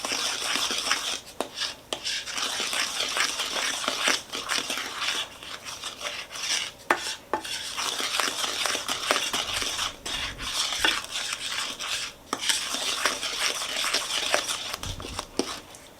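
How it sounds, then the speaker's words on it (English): Buttermilk is stirred into soft sugar cookie dough in a mixing bowl, with a continuous wet, rubbing, scraping stir and occasional knocks of the spoon against the bowl, close and steady throughout. "add a little bit of buttermilk, and then give it a good stir"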